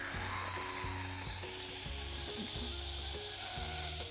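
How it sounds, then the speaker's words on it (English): An Instant Pot set to quick release vents steam in a loud, continuous high hiss that holds steady for several seconds before cutting off, over a faint low background hum. "we're gonna turn it to quick release, which is turning it to venting so all the steam will come out"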